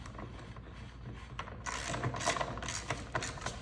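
Faint, close ratcheting clicks come as screws are snugged down on a minibike clutch cover fitted with a Tillotson 212 race motor clutch. The clicks are soft and sit over a low, steady background hiss.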